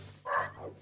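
A single short dog bark in the video game Ocarina of Time, one yelp over a faint steady hum.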